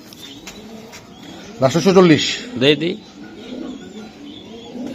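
Young club racing pigeons coo in a short burst of throaty, rolling calls that rise above someone talking nearby, with quieter bird sounds and talk around it.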